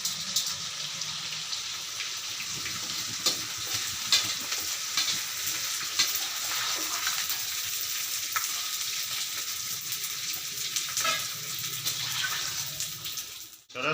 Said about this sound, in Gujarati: હવે ગુંદને તરી લઈએ હાલો આપણું ઘી વ્યવસ્થિત ગરમ થઈ ગયું છે